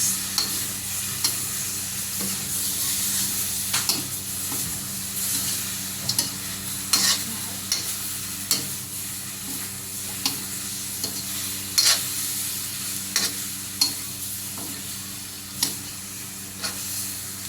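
Homemade pork chicharon frying in its own rendered fat, with steady close sizzling and spattering throughout and regular scraping stirs of a utensil against the pan every second or so.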